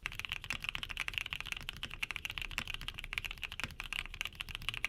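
Steady, brisk typing on a mechanical keyboard with Cheesecake Butterfly switches, a neutral sound neither very thocky nor clacky, with crisp, even keystrokes close up and no talking.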